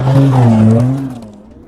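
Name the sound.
car being stopped by another car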